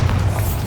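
Bombarda spell in the video game Hogwarts Legacy lands as a single heavy, deep boom, loud and close, filling the whole brief moment.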